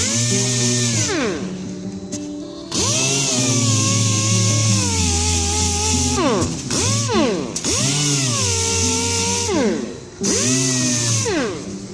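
A power sander with 80 grit cuts body filler on a dent in a brand-new Ford F-150 truck: a loud, close whining motor rises and falls in pitch, with several brief spin-downs between passes.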